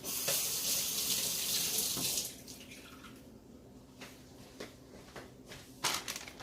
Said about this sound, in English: let me rinse my hands real fast